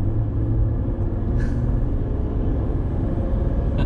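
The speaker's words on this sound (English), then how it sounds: "I'm gonna give it some speed right now so you guys can get a real sense of that V6." A 2003 Mercedes-Benz E320 W211 with a V6 accelerates, heard from inside the car as a steady, low, muffled engine drone under road rumble, with no talking.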